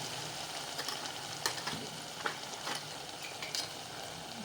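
Ginger-garlic paste sizzles and fries in a pan for a roasted brinjal dish, a steady hiss broken by soft stirring scrapes and small pops, heard close and alone.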